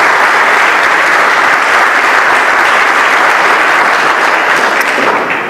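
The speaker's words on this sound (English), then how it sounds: "If we could have a round of applause for our school board." A school board meeting audience gives a sustained round of applause, dense and loud clapping from a full room that holds steady for several seconds before easing slightly at the end.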